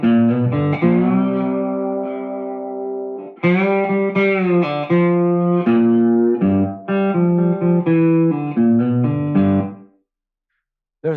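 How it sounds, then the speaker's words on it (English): A slide guitar plays a lick twice on a G pattern, slides up to C and returns, with clear sustained notes, smooth gliding pitch changes and effects-coloured tone, loud and alone, ending in silence. "going from just, say, 2 times on the G pattern up to the C and then back is going to sound like this"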